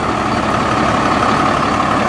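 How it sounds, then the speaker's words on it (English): A RAM 3500 with a Cummins diesel engine idles up close, giving a loud, steady, gravelly rumble with a constant low throb. "Definitely a Cummins diesel up under the hood."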